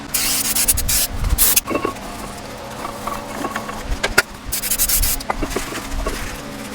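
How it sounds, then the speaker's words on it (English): Brake pad grooves on a 2004 Chrysler Town & Country caliper bracket are scrubbed clean, giving loud close bursts of harsh scraping and brushing broken by short pauses and small knocks. "I am going to clean up these little grooves here on both sides where the pads ride"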